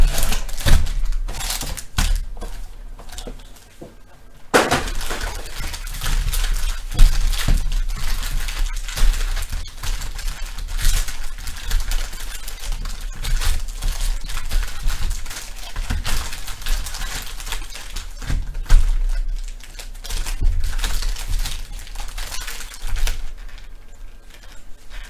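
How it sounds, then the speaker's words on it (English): Packs of Premier League Prizm trading cards being shuffled by hand produce a continuous dense papery riffle and crinkle of foil wrappers, close and steady, with a brief quieter pause near the start. "Let's just shuffle those packs."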